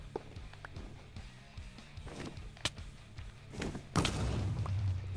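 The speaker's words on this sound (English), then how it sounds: "you do want to stay away from that explosion" Explosion in the Minecraft video game during a fight with the End Dragon: a sudden loud blast bursts in near the end, preceded by scattered thuds and blocky game noises, with no talking.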